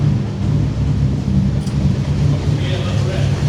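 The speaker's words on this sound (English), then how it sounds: "What does that exhaust actually sound like?" A Nissan Micra fitted with a Hayabusa engine, still cold, idles with a steady, deep exhaust rumble that holds at an even level throughout.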